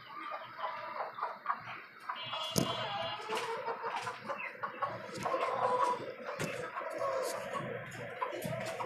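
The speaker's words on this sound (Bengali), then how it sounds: "এই আমার আরেকটা দেশি মুরগি, এটাও ডিম পাড়তেছে" A caged desi hen on a Bangladeshi backyard poultry farm clucks several times at close range, with other chickens clucking and scratching softly in the background.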